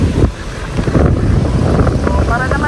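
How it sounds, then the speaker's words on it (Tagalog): Strong outdoor wind buffets the microphone in loud, uneven low-pitched gusts, with brief muffled voices in the roar and a faint whistle near the end. "malakas yung hangin."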